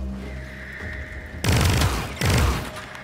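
Weapon fire aimed at an enemy hive in the video game Warframe, heard as two loud bursts of shots after a quieter stretch of low game ambience.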